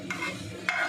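Cardamom and cloves fry on a medium flame in a pan for biryani while a spoon stirs them, giving two short scraping strokes over a low sizzle.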